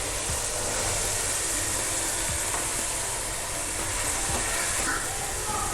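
Boiled chickpeas tipped into a frying pan of chopped tomatoes, green chillies and ginger, giving a steady, fairly loud broadband sizzle that runs unbroken throughout with a few faint clicks of stirring.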